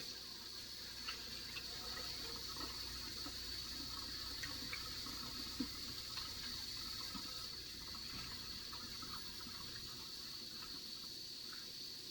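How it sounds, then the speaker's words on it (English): Tap water runs steadily into a sink during hand washing before bottling kombucha tea, a continuous soft rush heard at moderate distance with faint handling noises. "Wash my hands again."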